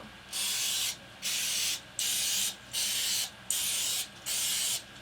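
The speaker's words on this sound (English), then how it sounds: "I'm going to be adding some non-stick spray" Six short bursts of non-stick cooking spray hiss in a steady rhythm, each lasting under a second, with brief pauses between them.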